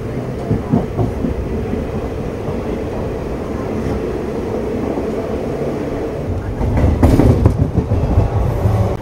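An express train running from Palakkad Town toward Trichy, heard from on board near Coimbatore Junction: a steady, loud rumble of wheels on rails with a rhythmic clatter and a brief louder surge toward the end.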